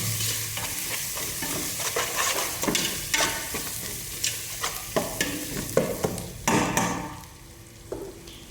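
Spices frying in oil in a pan, stirred vigorously with a loud steady sizzle and frequent scraping, clattering strokes of a spoon, ending in a quieter stretch.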